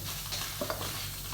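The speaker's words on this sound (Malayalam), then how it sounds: "ഇത് നന്നായി ഒന്ന് മൂപ്പിച്ചെടുക്കണം." Coriander powder roasting with cumin, cinnamon and cloves in a pan gives a low steady sizzle with a couple of soft stirring scrapes over a brief moment.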